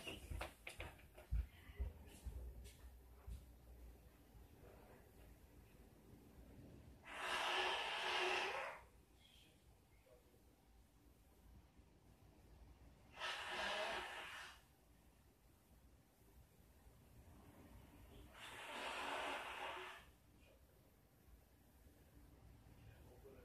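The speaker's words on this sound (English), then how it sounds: "I'm gonna go blow my nose." A person blows their nose in three separate bursts, close and fairly loud, with quiet room sound between them.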